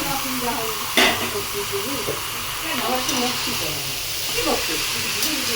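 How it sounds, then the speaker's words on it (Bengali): Chopped tomato hits a hot, sizzling pan of chicken curry with a sharp burst, then a steady loud hiss and crackle carries on, with faint voice-like sounds underneath. "এই যে আমি টমেটো দিয়ে দিচ্ছি"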